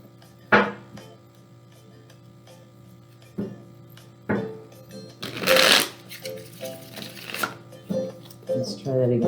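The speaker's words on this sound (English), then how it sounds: "I feel like another shuffle may be needed after all that." Tarot cards are shuffled by hand in short bursts: a few crisp riffling flicks, then a longer flurry of shuffling near the middle and scattered soft card taps, quiet and close.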